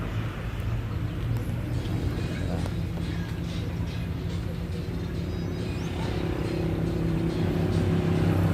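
Traffic rumbles along a highway about 100 meters away from a rural field, a continuous low drone of passing cars and engines that swells slightly toward the end.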